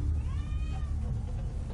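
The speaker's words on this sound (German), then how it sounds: "Katzen." Cats meow in the video game Ghost Recon: Future Soldier, one drawn-out rising and falling meow carried over a low rumbling game background, with no talking.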